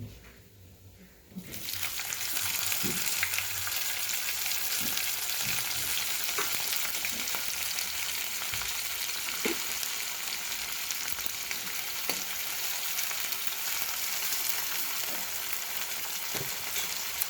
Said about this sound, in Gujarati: જીરું થોડું ચટકી જાય એટલે આપણે એમાં ઝીણી સમારેલી આપણે ડુંગળી એડ કરી દઈશું.